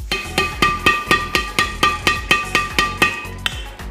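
A badminton racket strung with Kizuna Z63X at 28 lbs is tapped repeatedly, giving about a dozen evenly spaced crisp pings with a bright ringing tone, close and clear with no talking.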